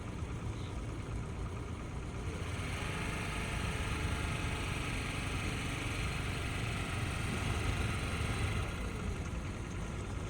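A scooter engine idles and rises gently as the learner rider slowly eases on the throttle, a steady faint mid-pitched hum with a mild swell partway through and no voices.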